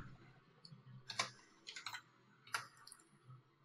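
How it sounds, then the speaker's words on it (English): Short bursts of keystrokes on a computer keyboard, a handful of close, crisp clicks in quick clusters separated by brief pauses, quiet and without speech. "I'm just going to type in design."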